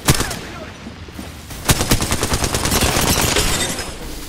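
Rapid gunfire in Apex Legends, a loud sharp shot then a fast sustained burst of automatic fire close up, with no talking.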